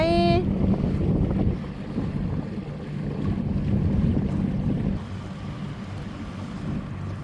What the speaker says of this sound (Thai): เรือวิ่งหาตกปลา